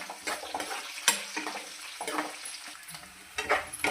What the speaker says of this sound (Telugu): ఇలా కొంచెం వేగింది కొద్దిగా ఉల్లిపాయ ముక్కలు మెత్తబండి